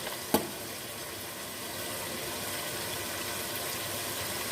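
Potatoes and peas stir-fried in spices with cumin powder, Punjabi style, give a steady broadband sizzle with one soft knock near the start and no voices.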